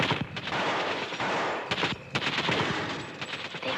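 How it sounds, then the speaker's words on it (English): Rapid gunfire crackles in dense, overlapping bursts as soldiers shoot out the lights during a jungle firefight in 1950s Malaya, loud and continuous with brief gaps. "They are shooting out the lights."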